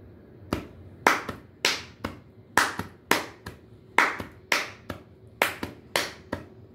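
Body percussion claps land in a steady, lively rhythm, about a dozen sharp, close hand strikes in pairs and singles, with no voice over them.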